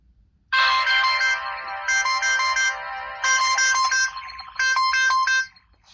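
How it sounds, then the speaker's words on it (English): A bright electronic alarm tone plays a repeating melodic phrase three times with short gaps, loud and clear with no talking. "It has the T-Mobile sample little alarm or alarm sound for T-Mobile"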